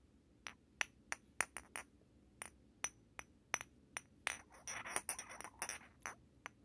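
Glass baby bottles knock together, a series of sharp, separate clinks at irregular intervals, growing into a quicker cluster of rattling taps before tapering off; close and clear, with no speech.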